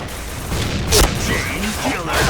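A grenade blast in the online shooter Point Blank booms midway through, a short loud burst amid ongoing gunfire and game noise, with someone talking over it.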